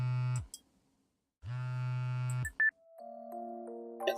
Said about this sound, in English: Does that sound like her phone going off?